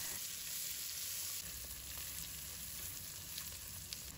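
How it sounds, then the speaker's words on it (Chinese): Shiitake mushrooms with dried chilies, ginger and garlic are stir-fried in a wok over medium-low heat, giving a quiet, steady hiss with faint, occasional taps of the spatula. "继续翻炒几下"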